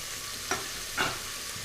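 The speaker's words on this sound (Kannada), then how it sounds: "ಎಣ್ಣೆ ಕಾದ ನಂತರ ಈ ಬ್ಯಾಡಿಗೆ ಮೆಣಸಿನ್ಕಾಯಿ ಈರುಳ್ಳಿ ಕೊತ್ತಂಬರಿ ಪುದೀನ ಅರ್ಧದಷ್ಟು ಹಾಕ್ಕೊಳ್ಳಿ" Chillies, onion, coriander and mint frying in hot oil for a Kannada mutton saaru, a soft continuous sizzle with two quick stirring scrapes, quiet and close.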